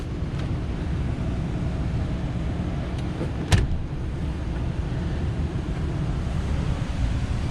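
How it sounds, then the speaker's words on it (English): Power window on a 2010 Ford Expedition EL running up and down, a steady low motor whir inside the cabin with a brief click partway through, no talk. "Window up and down."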